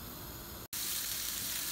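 Onion frying in a pan gives a steady, close sizzle with a brief silent break partway, then a louder, brighter hiss as two cups of water go in, with no voices.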